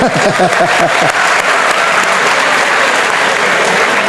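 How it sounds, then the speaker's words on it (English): A lecture audience bursts into steady, dense applause that fills the room for several seconds, with a few voices briefly audible at the start. "Let's give a round of applause to him."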